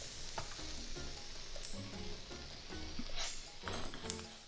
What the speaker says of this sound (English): You can hear it sizzling, so it's starting to go now.